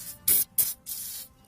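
Aerosol spray hits the battery connections of a 2000 Chrysler Town & Country during starter repair: two short close hissing bursts followed by a longer steady spray, alone without talk.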